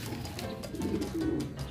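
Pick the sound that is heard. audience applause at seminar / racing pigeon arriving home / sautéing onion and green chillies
racing pigeon arriving home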